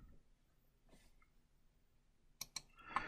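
A few sharp computer clicks near the end, a spacebar press followed by quick mouse clicks, close and crisp against a nearly silent room during PCB trace layout work.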